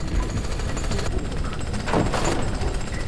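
A drill in the video game Jak and Daxter hammering in a rapid, steady, loud pounding rattle over rumbling background, continuous through the moment with no clear talk.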